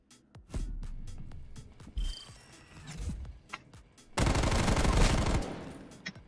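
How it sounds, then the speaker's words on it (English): Gunfire punching through a wall in a video game, scattered sharp shots followed by a loud sustained automatic burst near the end, with faint game noise between. "He just shot through the wall."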